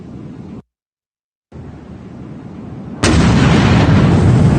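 A heavy explosion at night in Crimea lands as a sudden loud, broad roar that holds steady to the end, after a stretch of quieter wind-blown rumble that cuts briefly to silence.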